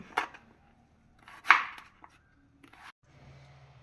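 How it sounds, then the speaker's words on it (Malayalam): Bottle gourd is chopped small with a knife in a few irregular knocks, one louder strike in the middle and quieter taps around it, followed by a low background hum. "ഇതേപോലെ ചെറുതായിട്ട് നമുക്ക് ചെറുതായിട്ട് നുറുക്കിയെടുക്കാം"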